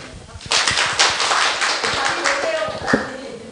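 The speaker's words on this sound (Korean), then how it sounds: "잘했어요. 박수." A class in a Bible lesson bursts into brisk, crackling hand clapping after a short pause, holding steady for a few seconds with a voice murmuring faintly underneath.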